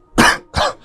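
Two harsh, wet coughs in quick succession from a man who is ill and struggling to breathe, close and loud, with a faint third exhalation trailing off at the end.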